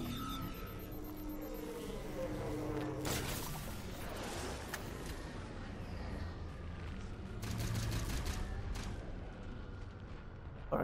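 Dense, continuous gunfire and explosions from the Halo 4 campaign mission The Cartographer on PC, with shotgun blasts and loud bursts landing around 3, 5 and 7.5 seconds over a steady din of battle.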